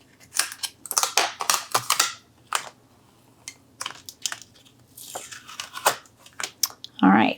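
Scissors trimming a Cricut transfer sheet on a craft plate, giving a series of crisp crunchy snips and crinkles in irregular bursts, with a voice briefly heard near the end.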